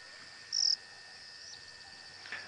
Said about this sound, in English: And we've got some crickets calling next to us.